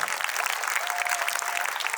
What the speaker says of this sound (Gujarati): જોરદાર તાળીઓથી આ શિક્ષક ભાઈઓને વધાવો.